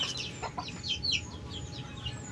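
Yellow-legged gamefowl chicks peep in quick high bursts while their mother hen clucks low and soft nearby, a short busy farmyard moment without speech.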